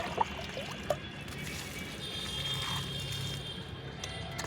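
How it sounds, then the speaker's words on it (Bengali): Fermented lotus-leaf pond water, rich in rotted organic matter, is poured onto tomato and vegetable plants, a steady near trickle and splash with a couple of brief knocks at the start. "এই জলটা এখন আমি গাছে দিয়ে দেবো"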